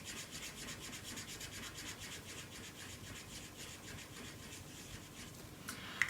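A small paper circle being coloured in yellow, with soft rapid scratchy back-and-forth strokes repeating close by, faint and steady throughout.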